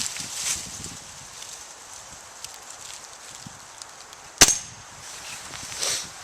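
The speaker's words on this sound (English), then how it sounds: "So we'll push the safety in, and then we're going to aim and fire." A Remington Express air rifle fires once, a single sharp crack standing out against quiet outdoor background noise, with a faint rustle before and after.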